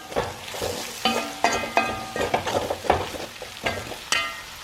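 A spoon stirs cashew nut curry in a pan, giving repeated scraping strokes in an irregular rhythm over a soft sizzle, close and fairly quiet.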